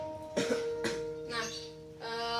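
A patient coughs during postural drainage chest physiotherapy, a few separate harsh bursts heard close up over a steady background hum.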